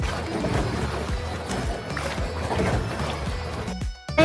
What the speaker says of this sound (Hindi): आप देख सकते हैं इस बोट को पैरों से या फिर हाथों से चलाया जाता है।